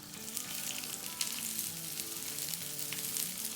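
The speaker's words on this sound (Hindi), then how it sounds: "इस पर हम थोड़ा सा ऑयल डालेंगे और इस पर थोड़ी सी प्याज डालेंगे।" Onions sizzle in oil on a cast iron pan, a soft, continuous crackling hiss that stays even and fairly quiet throughout.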